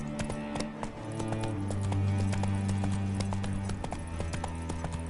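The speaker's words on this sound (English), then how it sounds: "Whoa there, Roach" A horse gallops in The Witcher 3 video game, its hooves beating a steady, rhythmic clip-clop over sustained in-game music tones.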